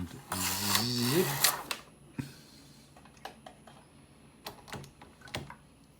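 A domestic knitting machine carriage zips across a row of a baby sweater, a dense loud mechanical ratcheting whir lasting about a second and a half, followed by quieter scattered clicks and taps.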